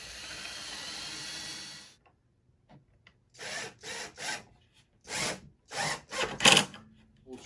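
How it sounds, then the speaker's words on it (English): A power drill bores pilot holes into solid cherry wood in several short bursts, each a close, rough whirring grind separated by brief pauses, after an earlier stretch of steady noise. "I'm going to drill pilot holes in all of here"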